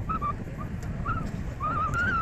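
Several birds call from a dike in the afternoon, bright chirps and whistled notes coming in short bursts over steady wind rumble and open-air background noise.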